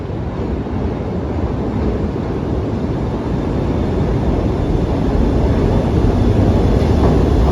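A CTA heritage train runs between Chicago stops, a loud, steady rumble and roar of wheels on rail heard from inside the car, slowly growing louder.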